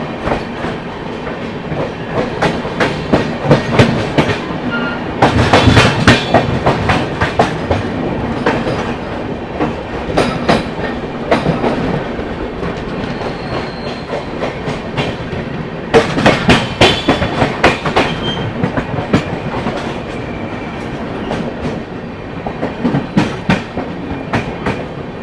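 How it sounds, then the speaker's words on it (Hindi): A long-distance Sachkhand Express from Amritsar to Hazur Sahib Nanded runs through Bina Junction without stopping, its wheels clattering steadily over rail joints in a loud, continuous rumble with bursts of rattling. "अमृतसर से चलकर हुजूर साहिब नांदेड़ की ओर जाने वाली सचखंड एक्सप्रेस अराइव कर रही है बीना जंक्शन"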